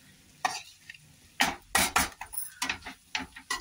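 Batata poha being gently mixed with freshly chopped coriander, a utensil scraping and stirring in the pan in several distinct, irregular strokes, close and moderately loud with no talking.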